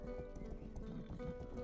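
Horses gallop in the video game Rustler, with a quick, continuous clip-clop of hooves. The hoofbeats are fairly faint and come without talking.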